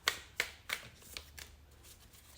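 Tarot cards being shuffled, a quick run of soft papery riffling snaps close to the listener, the bursts fading gradually in loudness.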